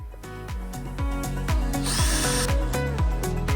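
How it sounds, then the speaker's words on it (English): A power drill whirs close up, bursts pulsing about twice a second, the pitch dipping as the bit drills out holes in metal on a 2020 Ford Transit van. "Now I just need to drill out these holes so we can use them."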